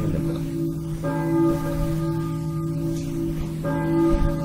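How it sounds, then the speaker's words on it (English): A church bell rings in the Silent Hill video game, its steady tolling tones sustained and resonant, struck again near the start and end over a low ambient drone. "Just ring the bell."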